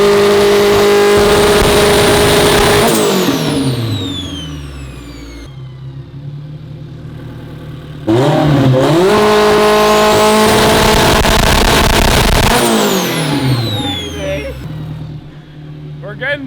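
Street-tuned AWD Honda Civic revving hard on road pulls with anti-lag engaged, loud engine wails climbing in pitch, dropping off, then surging again with crackles, up close and continuous.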